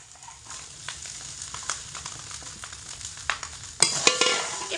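Pre-fried potatoes, peas and soybean chunks sizzle and crackle together in a pan for a vegetarian pulao, with occasional stirring scrapes and a sharper burst of frying near the end.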